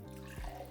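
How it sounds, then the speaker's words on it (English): Water poured from a container onto white Kool-Aid powder, a brief close splash and gurgle lasting under a second against a steady background hum. "Put in some water."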